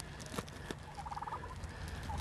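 A turkey gobbles in a quick rattling burst, fairly close, with softer calls trailing after against a steady background.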